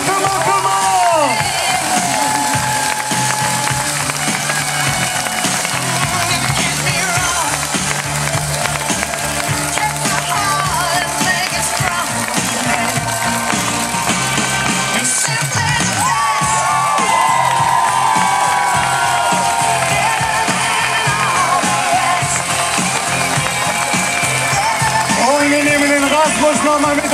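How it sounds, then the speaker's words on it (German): A large crowd cheers, whoops and claps at the finish line of the Challenge Roth triathlon, a loud, continuous roar with shouting voices and an announcer talking over the top throughout. "Die Finishline und das ist euer Applaus für eine Wahnsinnszeit"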